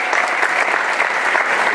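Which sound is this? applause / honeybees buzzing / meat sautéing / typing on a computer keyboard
applause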